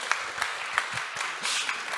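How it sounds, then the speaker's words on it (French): Brief applause from a press conference audience on tourism, a soft crowd clapping spread evenly over two seconds with no voices over it. "On peut applaudir."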